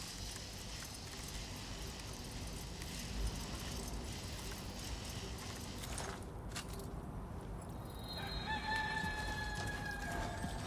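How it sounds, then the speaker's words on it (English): A rooster crows in a Hideo Kojima video game, a clear harmonic call rising toward the end over a steady, dense ambient game soundscape, with no talking. "Roosters still exist in this world."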